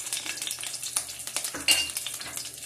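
Two finely chopped green chillies sizzle in about two teaspoons of hot oil in a kadai, a bright crackling hiss with sharp pops and a few stirring scrapes, close and alone.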